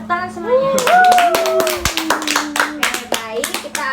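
Hands clapping in a small counselling group session: a scattered burst of separate claps, close and uneven, overlapping with a voice and other voices talking at first.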